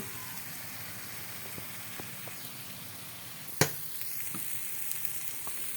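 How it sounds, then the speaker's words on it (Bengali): Meat drops into fried spice paste in a pan, giving a steady, moderately quiet sizzle with occasional crackles and one sharp clatter partway through. "আমার মশলা কষানো হয়ে গেছে, এখন মাংসটা দিয়ে দিব।"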